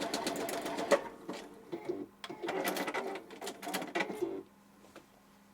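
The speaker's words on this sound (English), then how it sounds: "I don't know if I can do the waffle stitch because of the presser foot is not the one that came on this machine." A sewing machine fitted with a presser foot that did not come with it sews a waffle stitch, running in uneven bursts and pauses with faint mechanical clicks.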